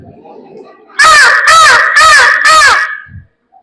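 A person imitates a crow with four loud, harsh caws in a steady row, each about half a second long, close to the microphone, then falls quiet.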